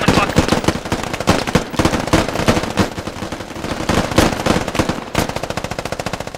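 Rapid automatic gunfire crackles in the military shooter game Squad, dense overlapping bursts of close, loud shots that run almost without pause, then a steady rhythmic volley near the end.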